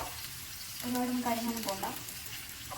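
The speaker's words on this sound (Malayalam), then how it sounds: "ഉള്ളി പൊരിച്ചെടുക്കുക എന്ന് പറയില്ല, അതാണ് ഇപ്പോൾ നമ്മൾ ചെയ്തുകൊണ്ടിരിക്കുന്നത്" Onions fry steadily in a pan for biryani, a constant hiss of sizzling oil running throughout while a voice speaks over it.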